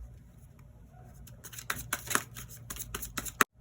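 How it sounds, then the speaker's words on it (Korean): Tarot cards rustle and slap softly as three extra cards are drawn from the deck, a flurry of quick papery flicks ending in a sharp snap. No one speaks. "제가 추가 카드를 한번 3장을 뽑아볼게요"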